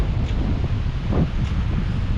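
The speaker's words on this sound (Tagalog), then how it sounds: "Mas malakas ang hangin ngayon ha. You know, west, galing po sa west." Strong wind from the west roars steadily into the microphone outdoors in a garden during a storm, a dense, continuous rush with slight gusting swells and no voices.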